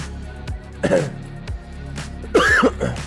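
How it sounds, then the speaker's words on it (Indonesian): A person coughs and clears their throat several times in short, rough bursts, close to the microphone, with no speech. "sabar nih, saya agak sedikit batuk"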